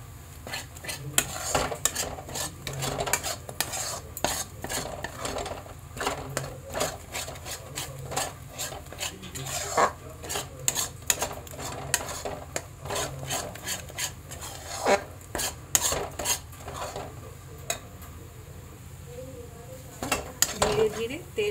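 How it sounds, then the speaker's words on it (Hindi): Turmeric roasting in ghee in a pan, stirred with a metal spoon that scrapes and clinks against the pan in quick repeated strokes, fairly quiet and close, with a low sizzle beneath. "इसको घी में भूंजेंगे जब तक ये घी ना छोड़ दे।"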